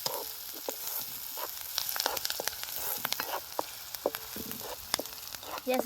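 Onions frying and being stirred in a pan over a wood-fired stove, with a steady close sizzle and repeated sharp scraping and clicking stirs throughout.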